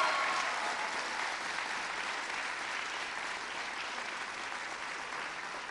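An audience applauds teachers and staff at a Seattle mayoral budget address, a steady, dense wash of many hands clapping throughout, fairly even in loudness and slowly easing off toward the end.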